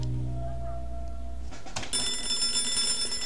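A telephone rings in the Hello Neighbor video game, a steady electronic ring that cuts out and gives way to a sharp clatter and a bright, high chiming tone.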